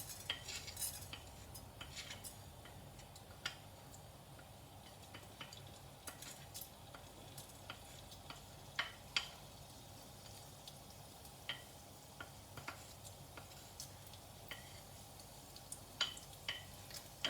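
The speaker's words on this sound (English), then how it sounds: "Our mustard seeds went all over the plate, so okay, you can see that it's spluttering well." Mustard seeds splutter and pop in hot oil in a pan while making pepperwater, giving scattered sharp crackles over a low, steady frying sizzle with faint utensil clinks, at a moderate level throughout.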